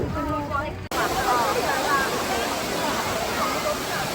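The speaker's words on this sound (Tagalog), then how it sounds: "Yan ang tinatawag ditong napakataas na waterfall" A tall man-made waterfall in Singapore's Cloud Forest pours as a loud, steady broadband rush, with people talking and crowd murmur over it at the start.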